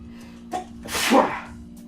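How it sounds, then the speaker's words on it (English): A single sneeze with a short sharp intake and a loud burst, close by, over a steady low hum. "Oh shoot, I'm gonna sneeze."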